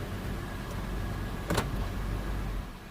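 A fifth-generation Toyota 4Runner idles steadily while its gear shifter is moved during a transmission drain and fill, giving one sharp, close click midway over the low, constant engine hum, with no voices.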